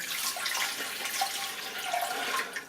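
Filtered tank water running from a tap into the bowl of a 3-litre ultrasonic cleaner, a steady close splashing rush that continues without a break.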